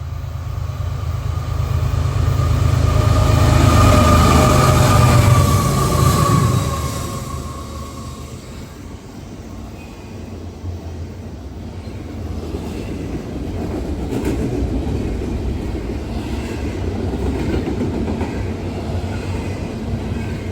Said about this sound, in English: got another eastbound coming. Looks like another auto rack.